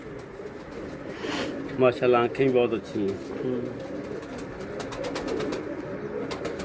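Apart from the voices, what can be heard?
pigeon cooing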